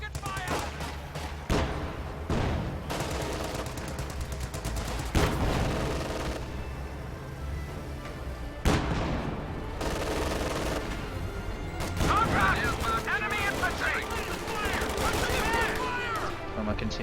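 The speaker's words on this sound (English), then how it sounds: "Contact! Small arms fire! Continue with rocket fire!" Small arms fire crackles through a World War II strategy game battle in repeated sharp bursts and volleys, with louder cracks scattered among them, while a voice talks over parts of the fighting.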